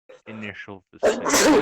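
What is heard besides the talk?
sneeze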